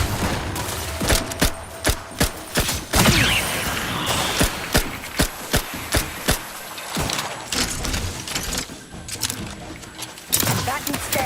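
Dense, sustained gunfire from The Outer Worlds 2, rapid bursts of shots rattling almost continuously with mechanical clatter, loud and close, with game voices heard intermittently.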